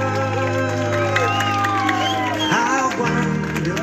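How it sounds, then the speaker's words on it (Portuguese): A crowd claps and cheers for an honoree at a Mother's Day birthday celebration, with excited voices and children shouting mixed into the lively, continuous noise. "Pode bater palmas que a nossa homenageada merece"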